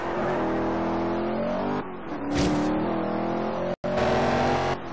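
An opponent's race car engine roars close behind in a Forza Horizon 2 circuit race at Nice. The sound is a loud, continuous rev that rises and falls with gear changes, with one sudden brief cut near the end.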